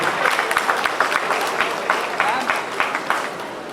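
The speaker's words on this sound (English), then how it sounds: "Can we have a round of applause for Arab Ayush Pandey?" Audience applause at a college youth festival, a crowd clapping in a dense, uneven patter with scattered louder claps, steady and fairly close for the whole stretch, with faint crowd murmur underneath.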